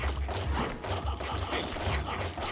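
An airstrike in the video game Ratropolis hits as a burst of rapid, rattling explosive impacts, a dense fusillade at moderate volume with brief sharp high accents.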